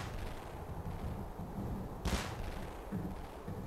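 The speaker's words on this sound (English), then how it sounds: "It's just cannon fire to celebrate." A single booming cannon shot rings out mid-way, fired in celebration of a victory in the game Jeanne d'Arc, over a steady low background rumble.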